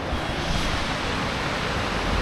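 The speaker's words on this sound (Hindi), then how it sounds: "यहाँ का पानी का शोर एक म्यूज़िक की तरह है, जो एक थेरेपी का काम करता है।" The Bhagirathi river rushes in a steady, loud roar of turbulent water near Harsil Valley, a continuous broadband wash with no talking heard over it.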